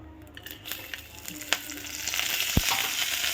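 Dried red chillies fry in a pan for a tamarind pickle, making a low crackling sizzle with scattered pops and scrapes that grows slightly busier and louder toward the end.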